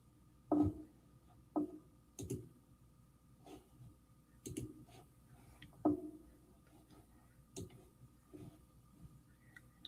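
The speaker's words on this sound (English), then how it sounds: "sorry you have to hear my mouse clicks." Computer mouse clicks, sharp isolated single and double taps spaced a second or more apart, close and fairly quiet in an otherwise still room.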